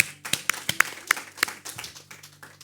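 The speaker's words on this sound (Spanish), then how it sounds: "Vamos a dar un aplauso al Señor." A church congregation at a Bible study claps briefly: a handful of sharp, irregular hand claps ring out close by, thinning out toward the end over a quiet background.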